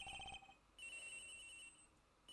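Phone ringtone from the video game Ace Attorney Investigations, a bright electronic ring in two bursts separated by a short gap, clear and moderately loud with no talking over it.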